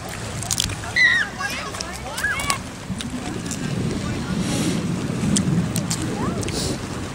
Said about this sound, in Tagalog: Ayan yung dagat oh